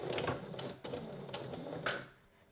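A sewing machine straight-stitches a vertical bra seam in a steady, close run of rapid needle clatter, pausing briefly partway through before trailing off near the end.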